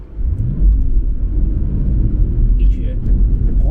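An Audi RS4 B7 V8 on summer tyres pulls away from a snowy roadside verge, giving a steady low engine rumble with a slight rise in revs, close by, with a voice speaking over it.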